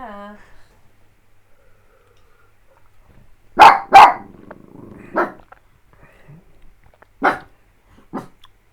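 A pug barks loudly in a handful of sharp, spaced bursts, close and indoors, with quiet gaps between and a brief voice at the start.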